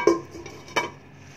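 Utensil scraping and clinking against a pan while chicken roast is stirred, two short distinct contacts near the start and partway through, then quiet; no talk.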